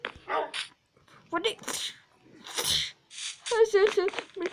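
A dog barks in a Minecraft game scene, a few short yaps mixed between bursts of talking voices, fairly close and moderately loud.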